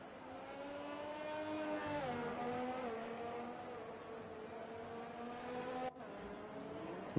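A Formula 1 car in F1 2020 on the Great Britain circuit screams through a flying lap, its high engine note holding steady with slight dips and rises in pitch, loud and close, with no talk.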